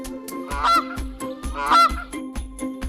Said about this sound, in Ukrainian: Гусак каже га-га-га.